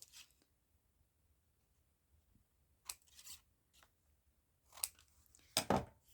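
Scissors snip through the ends of paper offcuts, a few crisp, close cuts arriving in short bursts between quiet pauses, with the last snips loudest.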